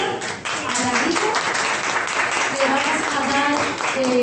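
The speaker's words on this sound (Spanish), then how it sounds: "vamos ahora a darle un aplauso de bienvenida a David." An audience at a Spanish-language book talk on the novel "Isla Partida" gives a welcome round of applause, dense steady clapping that fills the room, with a voice briefly audible over it.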